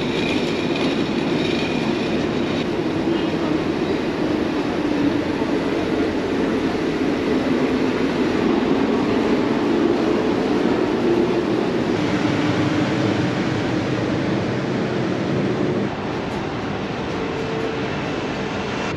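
An SJ high-speed passenger train rolls along with a loud, continuous roar and faint clattering of wheels, steady for the whole stretch, easing slightly near the end.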